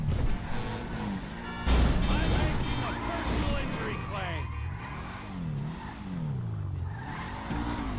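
Engine revving in a video game, with rising and falling pitch sweeps as the vehicle accelerates and slows, a crash-like burst near the start, and game sounds layered underneath throughout.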